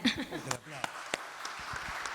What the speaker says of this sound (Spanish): Fuerte el aplauso para Flor, gracias.